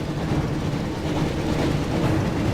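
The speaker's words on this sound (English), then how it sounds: "Looks like we found the train, Ron." A steady, dense rumble of a passing train in a Harry Potter and the Chamber of Secrets video game, low and continuous with a faint rhythmic clatter, no voices.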